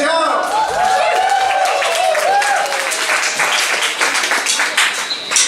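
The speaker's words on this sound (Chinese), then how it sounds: "拍手加尖叫。" Clapping and screaming from a crowd at a New Year's countdown concert by a band, a steady wash of applause and shrill cheers with a held singing or shouting voice riding on top throughout.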